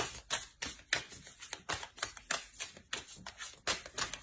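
Oracle cards being shuffled and drawn, a steady run of crisp, close riffling flicks and slaps in quick rhythm with no talking.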